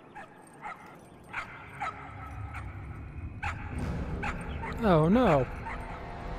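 Puppies in the video game Trover Saves the Universe yip, whimper and give short barks in a quick, high-pitched cluster, with someone briefly talking over them.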